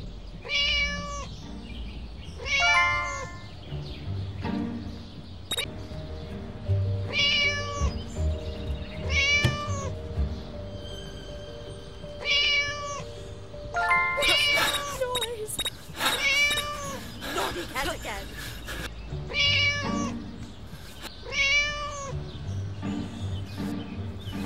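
Cartoonish cat meows from the Scary Teacher 3D video game repeat in short bursts across the clip, over game music and sound effects.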